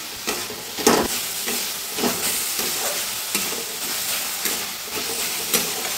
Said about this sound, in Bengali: এবার আমি ভালো করে সব একসঙ্গে মিশিয়ে নেব